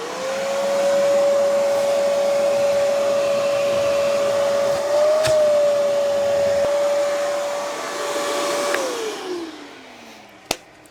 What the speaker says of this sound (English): Best way to get at it is with a shop vac.